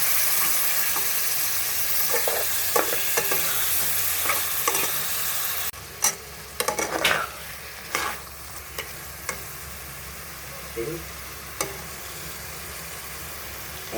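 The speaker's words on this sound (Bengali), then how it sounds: "এই যে মাংসটা কষায় নিচ্ছি আমি," Chicken meat is stir-fried in a pan: a steady hiss and sizzle at first, then scraping, clattering stirs and knocks of a utensil as the sizzle eases, heard close with no talking.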